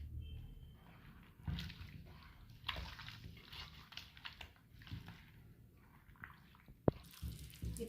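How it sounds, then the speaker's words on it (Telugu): Water is poured into a pot of Andhra Godavari-style fish curry with green chillies, giving an uneven run of splashes and trickles, close by, with a sharp clink near the end. "తగినన్ని నీళ్ళు పోసుకోవాలండి."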